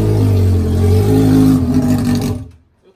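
A Honda Hornet motorcycle engine holds a loud, steady high rev that wavers slightly, then drops away sharply and cuts to near silence at the end.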